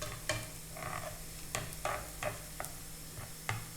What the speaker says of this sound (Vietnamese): Mình lấy đũa mình trộn cho nó đều ha. Mình đánh cho nó đều lên, mình trộn cho nó đều qua cái hành mình cho nó sôi